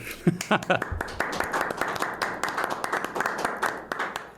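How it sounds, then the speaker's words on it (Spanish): Audience applause welcomes a speaker at a coaching and leadership talk: dense, continuous clapping of moderate loudness, with voices mixed underneath. "recibamos con un fuerte aplauso al señor Alejandro Sierra Alta."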